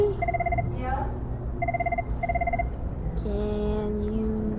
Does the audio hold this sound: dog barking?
no